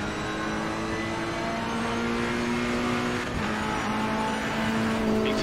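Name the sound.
Lamborghini race car engine in Assetto Corsa Competizione video game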